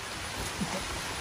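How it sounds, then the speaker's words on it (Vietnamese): Heavy rain falling on a rural Vietnamese village during roadwork: a brief, steady, close hiss of downpour with a slight low rumble beneath it. "Đi vào trong nhà đi Lý ơi, mưa quá."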